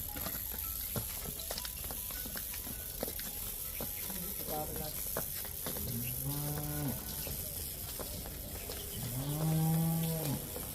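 A buffalo on a dairy farm gives two deep, drawn-out moos, the second louder and closer. Farm background noise and scattered clatter run underneath, along with a person talking.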